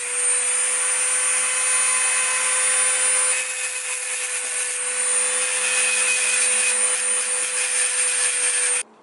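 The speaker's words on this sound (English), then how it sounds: "I just use the Dremel tools just to, you know, trim it down a little bit" A Dremel grinding tool trims down a metal tab for a timing belt upgrade on a 1JZ VVTi engine, whining at a steady high pitch up close for about nine seconds before stopping abruptly.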